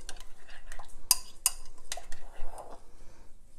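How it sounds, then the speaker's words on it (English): A spoon stirs a peppered, salted meat sauce in a pot, giving a few sharp clinks of metal against the pan amid soft scraping and shuffling, close and moderately loud. "Stir that up."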